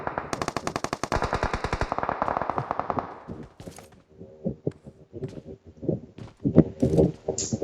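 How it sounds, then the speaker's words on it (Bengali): Rapid machine gun fire from a shooter video game, a long, loud, tightly spaced burst at the start, then scattered shorter shots and single cracks, with no talk. "আমাকে ফায়ার দিয়েছে।"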